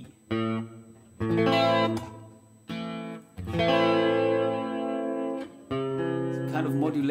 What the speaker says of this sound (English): It's kind of modulation reverb.